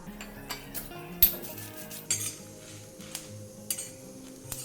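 Cumin, coriander, fennel and dried red chillies are dry-roasted in a pan, with a spoon stirring and scraping and light metallic clinks recurring irregularly over a faint background hum.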